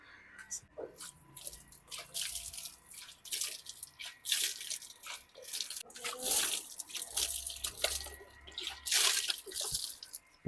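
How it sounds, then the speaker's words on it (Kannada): Water poured onto a curry leaf plant, splashing and trickling in uneven bursts, with some drips and a brief quiet voice in the background. "ಕರಿಬೇವು ಗಿಡ ಹಚ್ಚೈತ್ರಿ, ಸ್ವಲ್ಪ ನೀರು ಹಾಕಿಬಿಡೋಣ ಅದಕ್ಕೆ ಇವಾಗ"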